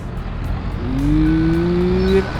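A tractor engine in Farming Simulator 22 hums softly, then rises steadily in pitch as it revs, under a constant background wash.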